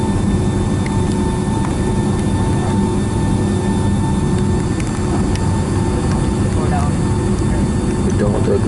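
Steady broadband roar of a Delta Boeing 757-200 engine heard from inside the cabin on an Atlanta to Los Angeles flight, a continuous loud drone with a low rumble that holds even and unbroken throughout.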